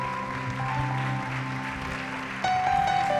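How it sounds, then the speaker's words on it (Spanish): Steady clapping fills a church worship service as the congregation applauds, broad and continuous, with held musical tones sounding beneath and a brief lift in loudness partway through. "Dele fuertes aplausos y dele toda la gloria y la honra al Señor en esta mañana, querida iglesia."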